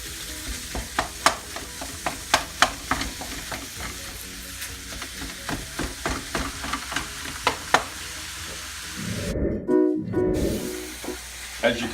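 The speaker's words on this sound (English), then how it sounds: "You're going to break the ground beef up. So it's easier to cook through." Ground beef sizzling in a pan while being broken up and stirred, with a steady hiss under repeated close scraping taps of the utensil and a brief louder rustle near the end.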